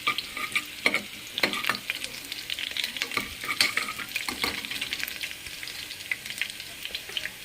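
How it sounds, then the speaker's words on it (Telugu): Onions, cumin and mustard seeds fry in oil inside a pressure cooker, a constant crackling sizzle punctuated by repeated sharp stirring scrapes, close and alone. "కుక్కర్లో ఆయిల్ వేసుకొని జీలకర్ర, ఆవాలు, ఉల్లిపాయ ముక్కల్ని కూడా వేసేసుకున్నానండి"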